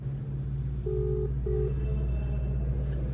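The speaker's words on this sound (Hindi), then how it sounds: "अब इसको फ़ोन करता हूँ, अभी फ़ोन करता हूँ इसको।" A mobile phone call is placed and two short ringback tones sound over a steady low hum, fairly faint against the background.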